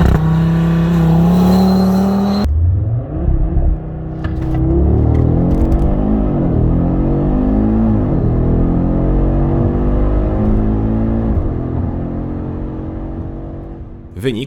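A 400 hp Audi RS 3 Sportback 2.5 TFSI five-cylinder with all-wheel drive and a dual-clutch automatic launches hard from standstill toward 100 km/h, loud engine roar climbing through quick upshifts, heard from inside the car.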